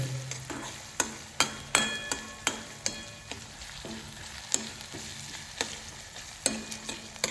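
Onion frying in a pan with mustard seeds, garlic, chili and cumin sizzles steadily while a spoon strikes and scrapes the pan in a regular rhythm of sharp, close clanks, with no voices.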